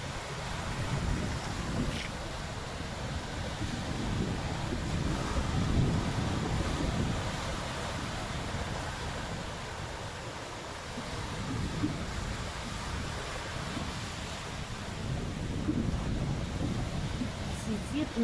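Ocean waves and wind along the Fuerteventura coast, a steady washing surf with gusty rumble throughout, moderately loud and continuous, with no voices over it.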